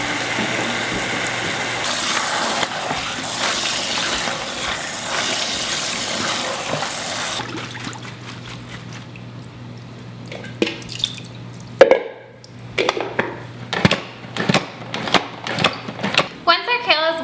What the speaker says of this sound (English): So just give it a little bit extra time on the wash, and maybe even wash it twice